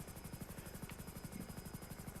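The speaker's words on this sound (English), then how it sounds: "this is a helicopter that we've been waiting for in Grand Theft Auto Online for a very, very, very, very, very long time" The FH-1 Hunter attack helicopter in GTA Online thumps with a steady, fast rotor chop under a constant high-pitched turbine whine, loud and close throughout, with no speech.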